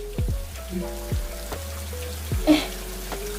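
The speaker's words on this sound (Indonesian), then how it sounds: "Iya, ini adalah suara hujan." Artificial rain from a kindergarten experiment plinks and drips onto a surface in scattered, irregular drops, close and fairly distinct against a quiet background.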